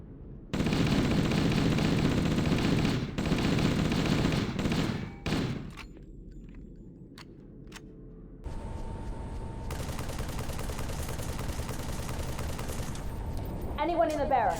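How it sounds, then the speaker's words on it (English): Gunfire in the Halo video game, bursts of rapid weapon fire with some loud and dense volleys, then a quieter stretch and renewed steady shooting, set against game noise that includes what may be voices. "Gun sounds are less pronounced than CE and Halo 2, making gunshots sound more like BB guns than actual firearms."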